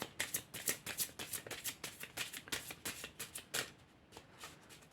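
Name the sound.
tarot cards being dealt into piles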